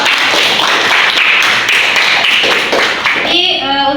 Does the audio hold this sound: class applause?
yes